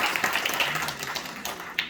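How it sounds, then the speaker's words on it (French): Brief scattered applause from a seated audience at a religious colloquium, individual claps audible and thinning, with a final sharper clap near the end. "On peut encore les applaudir."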